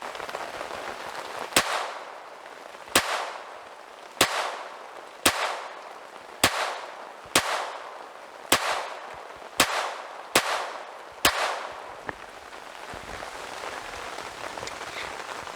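Sharp .22 pistol shots ring out one at a time, about ten in a steady, unhurried rhythm with roughly a second between each, fairly loud against a hissy outdoor background with no talking.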